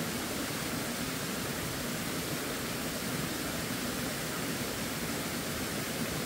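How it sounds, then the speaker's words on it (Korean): A mountain valley stream on Yongamsan in Hwasun rushes in a steady, dense broadband wash, continuous and fairly close, with no voices. "시원한 계곡에서 등산의 피로와 열기를 좀 식히고 갑니다."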